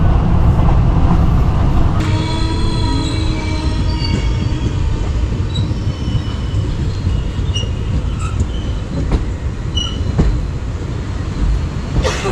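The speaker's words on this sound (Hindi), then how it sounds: "फाइनली अपनी ट्रेन बरहरवा जंक्शन से निकल चुके हैं" The Vananchal Express, bound from Bhagalpur to Ranchi, rolls on after leaving Barharwa Junction. Loud, continuous rumble of wheels on rail comes with high wheel squeal from about two seconds in and occasional clanks, heard from inside a coach.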